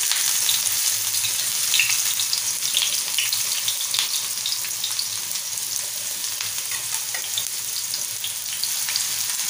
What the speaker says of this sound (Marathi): आता आपण बारीक चिरलेला कांदा घालून घेऊया।